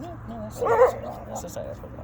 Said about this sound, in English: Sorry about the dog. He's overly aggressive for some reason.